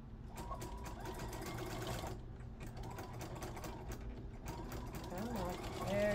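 A sewing machine stitches over elastic while sewing a scarf into pants, its needle whirring in a steady, fast mechanical rhythm close up, with brief pauses and a rising run near the end.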